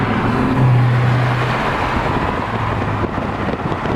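A Mercedes E63S wagon's engine drones steadily with a low hum, mixed with road rumble and wind buffeting the microphone, no voices.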